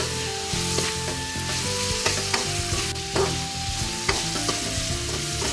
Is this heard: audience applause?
no